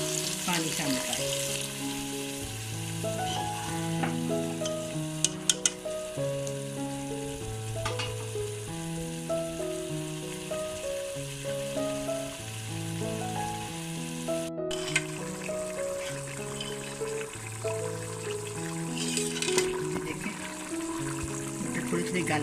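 Aloo matar in a pan with added water sizzles and bubbles steadily throughout, with occasional stirring clinks, under continuous background music.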